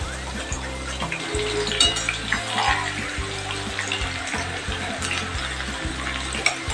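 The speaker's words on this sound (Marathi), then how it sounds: "आपल्याला कढईमध्ये जेवढे हो होतील तेवढे आपण घालायचे" Thin raw banana slices fry in hot oil in a kadhai for homemade wafers, making a dense, continuous bubbling hiss that sounds much like running water, over a low background hum.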